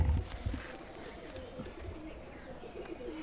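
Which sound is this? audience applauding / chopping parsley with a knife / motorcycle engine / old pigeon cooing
old pigeon cooing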